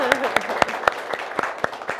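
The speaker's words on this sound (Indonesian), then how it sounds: "boleh ada tepuk tangan" An audience applauds at a government service event in Yogyakarta, sharp claps landing in a fairly even rhythm over about two seconds, close and distinct.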